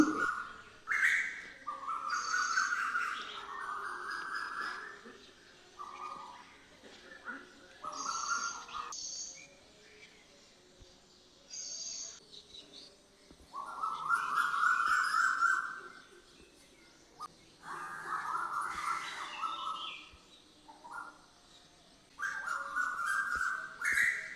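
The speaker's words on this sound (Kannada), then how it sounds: "ಹಾಗೆ ಪಕ್ಷಿ ತುಂಬ ಚೆನ್ನಾಗಿ ಕೂಗ್ತಾ ಇದೆ" Early-morning birdsong, bright whistled calls and chirps in repeated bursts with short pauses between phrases, fairly close and clear with no talking.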